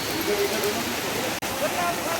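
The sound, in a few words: waterfall on Amarnath yatra route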